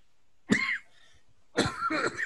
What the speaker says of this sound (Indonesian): sorry, agak batuk ya